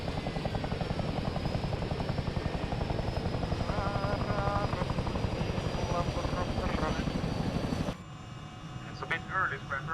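A military helicopter in a video game thumps with a loud, steady rotor chop for about eight seconds, then cuts off abruptly, leaving quieter scattered sounds and voices.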